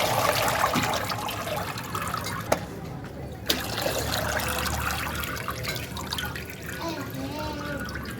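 Water running and splashing as rice is lifted out of a bowl of water and rinsed in a home kitchen, a continuous trickling wash with a couple of sharp knocks, fairly close and loud.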